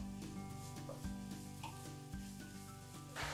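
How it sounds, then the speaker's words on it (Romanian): Onion sautéing in a pan for stuffed peppers, a steady soft sizzle with rhythmic scraping strokes of stirring repeating roughly every second, fairly quiet and close. "Amestecați totul și căliți până când ceapa se înmoaie"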